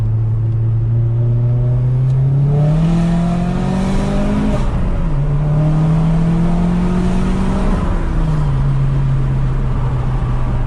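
A Vauxhall Astra VXR engine, warmed up and with its rear boost control solenoid removed, drones loudly up close in sport mode, its pitch climbing through gear changes and dropping back as it drives steadily on.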